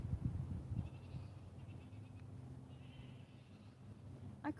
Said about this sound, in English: I couldn't get tired of hearing that, the sound of goats.